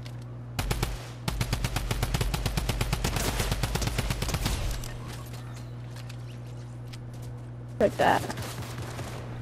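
Mythic Drum Gun in a shooter video game, firing a long, rapid, fully automatic burst of loud, evenly spaced shots for several seconds. Then a brief pause, a short final flurry, and someone speaking briefly.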